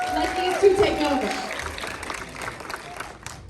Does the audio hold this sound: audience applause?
yes